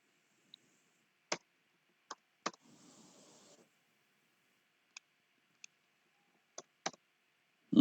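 Typing on a computer keyboard at a command prompt: a handful of sparse, sharp key clicks spaced irregularly, close and quiet, with a brief soft rustle between them.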